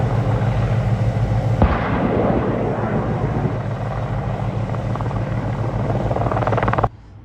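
Two AH-64 attack helicopters providing cover during a combined arms live-fire exercise, heard as a loud, steady rotor roar with rumbling, booming bursts mixed in that cuts off abruptly near the end.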